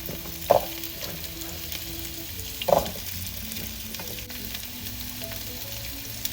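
Carrots and seasoned potatoes brown in a pan over medium-high heat for a goat stew, giving a steady low sizzle with two sharp utensil clacks early on and a quieter stretch after.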